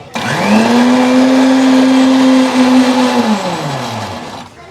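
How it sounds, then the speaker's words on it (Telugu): A mixer grinder whirs loudly at a steady pitch for about three seconds while blending cashews into a milkshake, then spins down and fades as it stops. "ఇది ఒకసారి ఒక 3 మినిట్స్ మిక్సీలో వేసారు."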